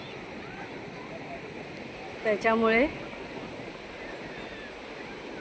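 Waves break on a Konkan beach in a continuous soft wash of surf, with a person speaking briefly partway through.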